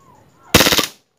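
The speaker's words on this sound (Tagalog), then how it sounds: "Switch to full auto." WE G18 gas blowback airsoft pistol firing on full auto: one short, loud rapid burst of about six shots after a quiet lead-in.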